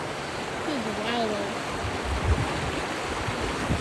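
Floodwater in a river rushes steadily in a broad, continuous wash, with voices talking faintly over the flow.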